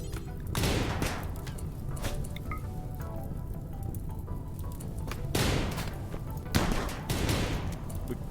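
Auto-pistol fire from a RimWorld firefight, heard as bursts of sharp cracks around the one-second and five-to-seven-second marks over a steady low rumble of battle ambience, with no voices.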